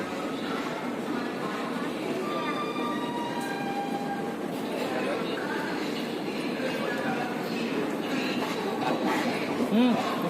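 Rajendranagar–Jaynagar Intercity Express at Samastipur junction, heard as a steady rail rumble with faint squeals and a brief tonal note near the end, while a voice talks at times in the background.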